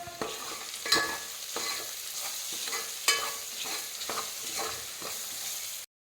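Chicken curry masala with ginger garlic paste and mint being stirred in a pan, a steady close scrape and sizzle with sharper spoon knocks at irregular intervals, no voices.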